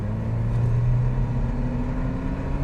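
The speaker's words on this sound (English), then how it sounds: "So let's mash the throttle." A Toyota Land Cruiser with a louder turbo accelerates under full throttle, a steady, close, droning engine rumble from inside the cabin with a rising tone.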